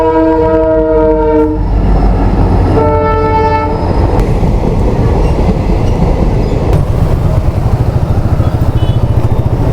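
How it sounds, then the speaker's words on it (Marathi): A train rumbles past close by at a railway crossing, its horn blaring in two long blasts near the start, followed by the steady clatter of wheels over the tracks. "आली एकदाची ट्रेन"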